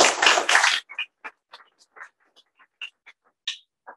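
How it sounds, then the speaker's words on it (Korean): Brief burst of audience clapping at an indoor forum, dense for under a second, then trailing into a few scattered single claps that fade to silence. "우리 자 박수 한번 해줍시다."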